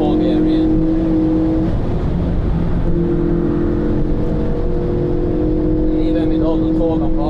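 Ford Focus RS500 rally car with a driver, its engine droning loud and steady under a voice-over, pitch climbing and dropping as it pulls through the gears.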